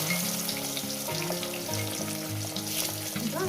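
Pieces of fish frying in hot oil for a spicy fish curry, a steady dense sizzle running throughout beneath background music, with no talking.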